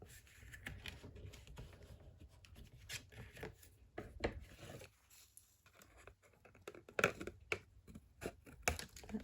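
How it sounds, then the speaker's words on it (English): Paper trimmed for a one-sheet double-envelope card folder, with a run of soft scraping and tapping cutting strokes, close and quiet, in irregular bursts with brief pauses. "I'm just going to trim off the little excess pieces on the top"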